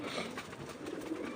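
Pigeons coo faintly amid a broad outdoor hiss, low murmuring calls blending into the background without clear separate bursts.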